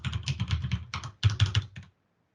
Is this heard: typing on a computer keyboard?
yes